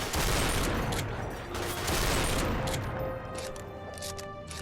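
A sustained barrage of distant, overlapping gunfire and explosions from Half-Life 2 fills the background, a continuous rumbling fusillade with no clear individual shots and no voices on top.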